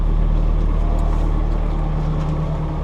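Loud, steady engine drone with a low rumbling throb, continuous and unchanging throughout, from a sailboat motoring in windless open ocean between Hawaii and Alaska.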